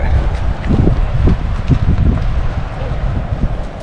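Strong coastal wind along the Great Ocean Road near the Twelve Apostles, buffeting the microphone in loud, gusty rumbling bursts throughout with no pauses.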